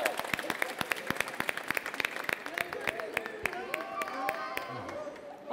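An audience applauds at an awards ceremony, with distinct separate claps at first that thicken into a fuller round, while people talk and call out underneath.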